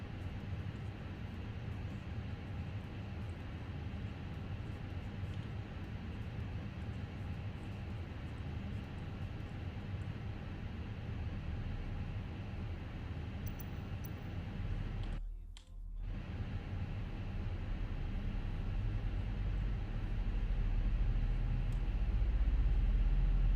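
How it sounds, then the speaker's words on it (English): A Fenix A320 airliner in Microsoft Flight Simulator, in EasyJet livery, starts engine number 1 with a steady, loud broadband roar. The roar drops out briefly partway through and then swells toward the end, with no talk. "Engine start to ignition. Engine number 1."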